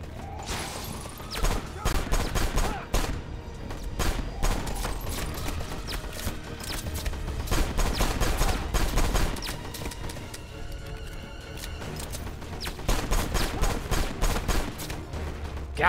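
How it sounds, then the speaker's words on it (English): Rapid, dense gunfire in the video game Left Alive, continuous bursts of close shots and a few booming impacts that pause briefly mid-way before another heavy volley, with faint voices mixed in. "People are shooting at me!"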